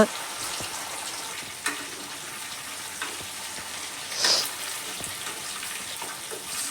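Green chilli chicken with mint, coriander and green chillies sizzles steadily in a pan, with a continuous close hiss and occasional soft stirring clicks and a brief louder burst of spitting.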